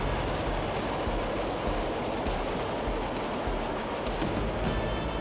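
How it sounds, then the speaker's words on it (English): Vintage heritage locomotives at the Ecclesbourne Valley Railway move along the line, a loud, continuous, dense rumble of engines and rolling stock with no voices. "The locos move into position"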